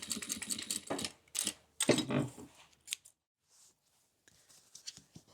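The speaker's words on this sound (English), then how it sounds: "So we want to make sure we back stitch really well." A home sewing machine back stitching a boxy bag seam, with quick mechanical stitching bursts that stop and restart in short runs, close and fairly quiet, fading into soft handling noises.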